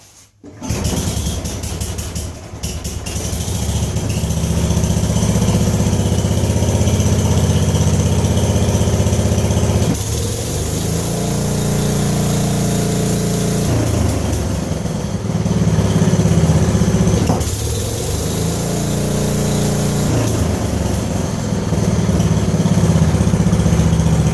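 A small riding mower engine starts cold with one pull and settles into a steady, loud idle, chugging evenly up close with slight dips in pitch.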